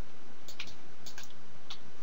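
A few computer keyboard keys are pressed in scattered light clicks, close and fairly soft against steady background hiss.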